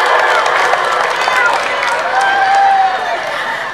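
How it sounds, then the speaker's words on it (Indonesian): A crowd at a prize-giving night breaks into loud, sustained clapping and hubbub, close and continuous for a few seconds. "Berikan tepuk tangan dulu."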